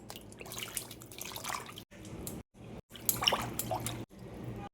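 Vegetables are washed under running water in a home kitchen, a close, steady trickle and splashing with drips that stops briefly several times, with no one talking.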